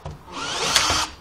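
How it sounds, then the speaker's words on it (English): A short burst of a power drill whirring up to speed, loud and close, then cutting off after about a second, while a power supply is being worked on. "There's some drill."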